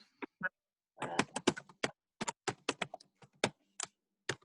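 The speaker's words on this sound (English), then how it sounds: "Who's typing?" Clicks of typing on a computer keyboard during a virtual meeting come in irregular quick bursts and single taps, close and crisp, with no talking over them.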